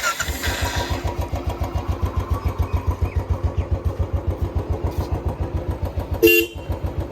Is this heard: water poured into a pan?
no